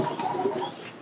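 Pigeon cooing, a soft continuous low murmur held steadily through a brief moment, close by and moderately loud with no talk over it.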